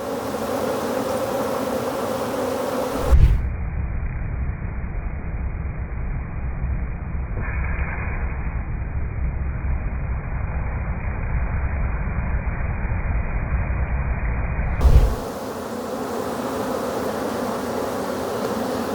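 Honey bees buzzing around an open beehive, a steady close insect drone with a few louder passes near the microphone, no talking.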